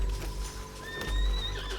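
A horse neighs in Red Dead Redemption 2, a clear whinny rising over low ambient rumble and a faint clip-clop of hooves, close and fairly loud, with no talking.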